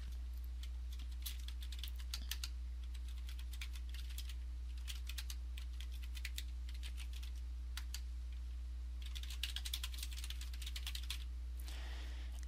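Fast keyboard typing, close and crisp, as site details are entered into a WordPress install form, coming in several bursts with short pauses over a steady low hum.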